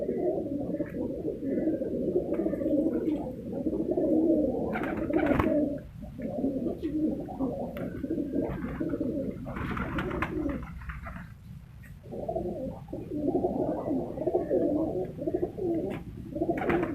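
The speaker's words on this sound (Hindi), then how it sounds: "ये देखो भाई, ये सोन चिड़े डबल शेड में।" Son Chiday pigeons, a breeding pair kept in a double shed at a Multan pigeon farm, coo steadily in soft, rolling, overlapping calls close by.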